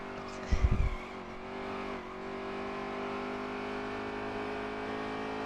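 Xfinity Series stock cars racing at ISM Raceway give a steady, sustained engine drone at moderate distance, with a short low rumbling thump near the start.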